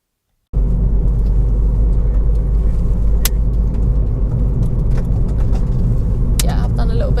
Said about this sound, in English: Got a lot of stones being flicked up